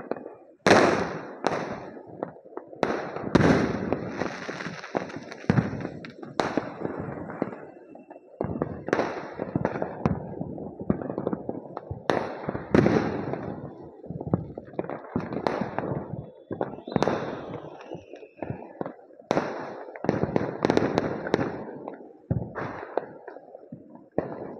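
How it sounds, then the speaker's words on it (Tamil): Fireworks and firecrackers crack and burst repeatedly at a night festival of lights, with dense, irregular volleys of sharp pops and booms that carry on loudly throughout. "இந்த வான வேடிக்கை எல்லாரும் மக்களோட சந்தோஷத்தை தான் காட்டுது."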